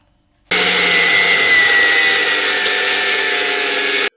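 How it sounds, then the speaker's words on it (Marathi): A kitchen mixer grinder grinding spices with black masala and cumin powder for a stuffed capsicum filling, starting abruptly and then a loud, steady high-pitched whirring drone that runs without pause to the end. "तर हे सगळं आपल्याला मिक्सरला बारीक फिरवून घेणार आहोत आपण"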